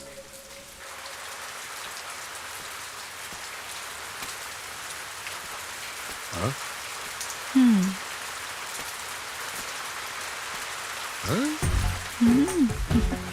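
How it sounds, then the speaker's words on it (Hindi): Steady rain falls outdoors as a constant hiss throughout, with brief voices speaking softly over it near the end. "बेटा बारिश हो रही है"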